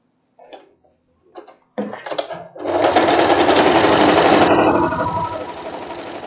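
A sewing machine stitches a floral wrap dress. A few light clicks and handling taps come first, then the motor runs in a loud, fast, rattling stitching burst that eases off toward the end, with no speech.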